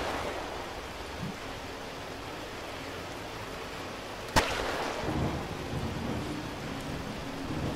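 Rain hisses steadily in the video game Cataclysm: Dark Days Ahead, broken by one sharp, close thunderclap midway and a softer rumble trailing after it.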